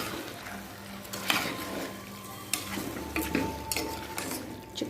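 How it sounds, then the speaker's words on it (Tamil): Chicken pieces being stirred and sautéed in oil in a pan for a home-cooked chicken gravy, with a steady soft sizzle and intermittent scraping clinks of a utensil against the pan, no talking. "நல்லா சிக்கனை பரட்டி விட்டுடலாம்."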